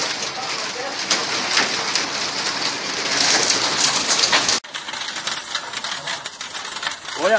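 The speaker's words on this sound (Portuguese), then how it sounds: "Olha só, chuva de gelo que tá caindo aqui." Hailstones fall during a hailstorm in Patrocínio, Brazil, a dense continuous patter and rattle on surfaces that drops abruptly in level halfway through, with a voice faintly in the mix.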